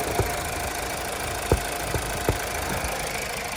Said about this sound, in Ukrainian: Двигун сам працює чудово, рівно ніяких посторонніх шумів немає